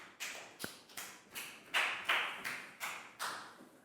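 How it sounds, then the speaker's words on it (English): Scattered claps from a few children in a Year 4 classroom, about eight sharp, irregular bursts of clapping, moderately near, with no talking. "High five and a big round of applause for Nadia"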